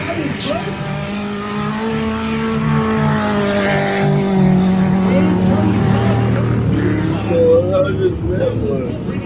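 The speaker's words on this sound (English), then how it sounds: "So we got half a car race on sports today, Andrew." Race cars in a car race play loud and near, engines revving and passing over crowd babble, with a person talking over the sound.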